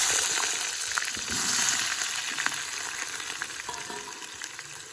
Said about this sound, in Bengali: কামরাঙ্গাটা খুব বেশি ভাজবো না, হালকা করে একটু ভেজে নেব।